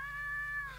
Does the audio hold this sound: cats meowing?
yes